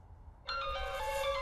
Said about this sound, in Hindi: अरे भाई का फोन आ रहा है यार